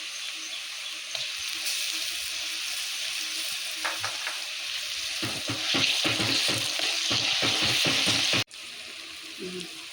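Boti (goat tripe) pieces fry in a pan at home in function style, giving a constant crackling sizzle broken by bursts of stirring scrapes and clatter, then a sudden drop to quieter sizzling near the end.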